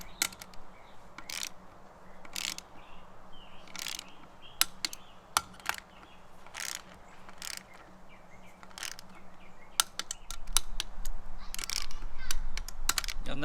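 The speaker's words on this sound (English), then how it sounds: "So now we're going to switch over to the torque wrench, and we will start a torquing sequence, get these things down slowly." A torque wrench tightening bolts on KMC KM237 crawl beadlock wheels, giving sparse, sharp clicks at uneven intervals over a quiet outdoor background with faint bird chirps.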